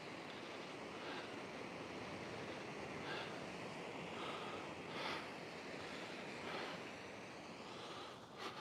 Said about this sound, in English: So the waves are not as bad as they were the other day.